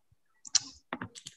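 Typing on a computer keyboard, a few quick key presses in two short bursts, close and fairly clear against silence.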